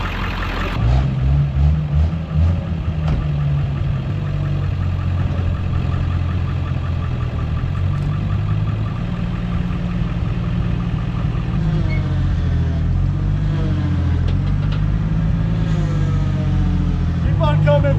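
A Ford F-550 truck engine idles in neutral with the e-brake on, a steady low rumble close by that holds throughout while people talk over it.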